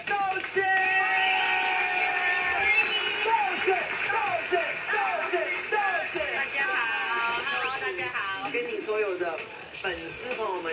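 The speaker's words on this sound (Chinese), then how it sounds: "掌声欢迎来自东台湾之花南洋技术学院庄品馨的豆姐。" Studio audience at a live esports all-star variety show cheering, whooping and clapping to welcome a guest, a dense, loud, continuous crowd roar with bursts of shouting throughout.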